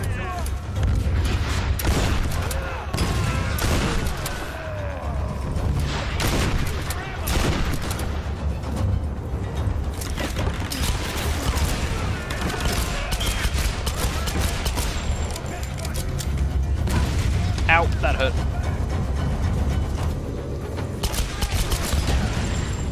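Gunfire in Tomb Raider (2013): repeated bursts of in-game shots and booms spread across the clip, loud and near, with someone talking over the shooting at times.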